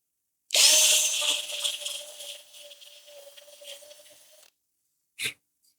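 An electric drill bores a hole freehand, whining loudly and close at first and settling into a steadier grind for several seconds, then stops, followed by one short final burst.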